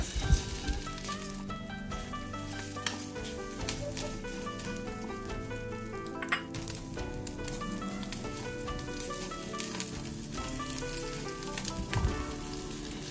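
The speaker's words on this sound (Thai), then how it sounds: "แล้วใส่กระเทียมและหอมใหญ่นะคะ" A steady, soft sizzle of garlic and onion frying in a hot pan beside scrambled egg, continuous crackling throughout with no voices.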